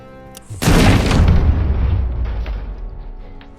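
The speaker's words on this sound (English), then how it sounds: "Let's use the RoboCop pistol though." A single RoboCop pistol shot in RoboCop: Rogue City lands as one heavy, booming report after a quiet moment, then rolls into a long, slowly fading echoing tail.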